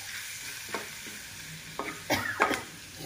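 Grated garlic frying in a pan until brown, a steady faint sizzle broken by a few sharp scraping stirs of the spoon, with no talking.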